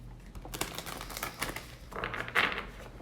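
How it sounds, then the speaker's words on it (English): Tarot cards are shuffled by hand, giving a run of quick, crisp papery flicks and taps close up, building to a denser riffle near the end over a low background hum. "one more shuffle"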